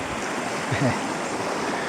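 Flowing water of the clear Daraitan river, a steady broadband rushing wash filling the scene, with a faint brief murmur of a voice partway through.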